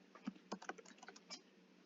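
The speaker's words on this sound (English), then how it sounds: "I'm typing it so I don't have to go up and find the symbol thing" Quiet typing on a computer keyboard: a quick, uneven run of soft key clicks with no talking, faint and close by.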